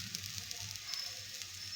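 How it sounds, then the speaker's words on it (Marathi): Aloo tikki shallow frying on a hot tava, a steady soft sizzle with faint crackles throughout, quiet and close, no voices. "सगळ्या टिक्क्या शॅलो फ्राय करून घेणार"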